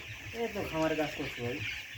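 Broiler chickens, about twelve hundred twelve-day-old birds in a poultry shed, cluck in a busy chorus, with overlapping calls rising and falling against a steady background hum.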